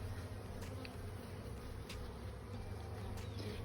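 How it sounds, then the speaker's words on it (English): Honeybees buzz around an open hive during an inspection, a close, continuous droning hum with a few louder passes of individual bees, no talk. "It's kind of fun feeling them walking around,"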